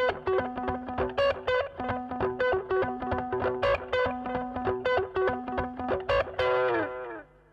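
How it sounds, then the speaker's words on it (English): Electric guitar rhythm patch on a Boss ME-80, compressed and overdriven with delay and a touch of reverb, played as choppy repeated chords and single notes, close and steady. "It's made of compression, overdrive, delay, and a bit of reverb."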